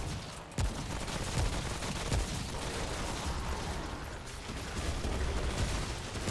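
Turret fire in the video game Remnant: From the Ashes, a dense continuous barrage of rapid shots with heavier thumps mixed in, loud and sustained throughout.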